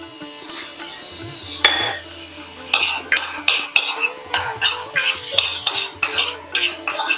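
Metal utensil scraping and stirring vegetables and yellow corn in a pan for soup, with repeated clinks and a soft sizzle underneath, steady and close.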